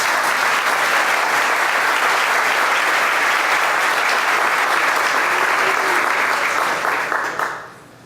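Sustained audience applause at a chamber of commerce annual meeting and community awards, loud full-room clapping that holds steady for several seconds before quickly dying away at the end.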